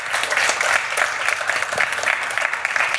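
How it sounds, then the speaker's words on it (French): A pitch event audience applauds startup presenters as they take the stage, a continuous, even wash of many hands clapping at moderate volume, with no break or talk standing out. "on peut les applaudir"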